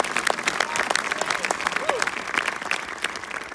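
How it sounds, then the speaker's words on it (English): An audience at a film premiere event applauds, dense continuous clapping throughout, fairly close and even, with no speech over it. "please, a round of applause"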